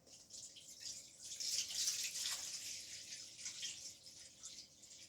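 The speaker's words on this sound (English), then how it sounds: "all I'm going to do now is pour this rainwater" Collected rainwater pours from 5-gallon buckets into reservoirs, a steady splashing, hissing stream that swells in the middle and keeps running close by with no talk.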